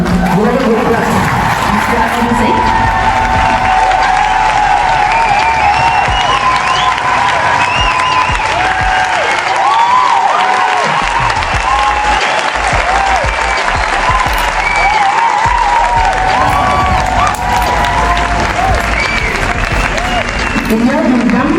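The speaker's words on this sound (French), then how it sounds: "Donc vous pouvez applaudir pour vous pour votre intelligence." A large audience at a political talk in Senegal applauds loudly and continuously, a dense roar of clapping that holds at full strength throughout, with voices mixed into the crowd noise.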